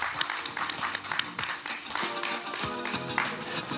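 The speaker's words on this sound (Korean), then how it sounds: "홍정현 씨를 다시 무대 위로 모시겠습니다. 박수 부탁드립니다, 여러분." Audience applause greeting actor Hong Jong-hyun as he returns to the stage at a drama press conference, steady dense clapping from a crowd filling the room throughout, with a voice briefly audible.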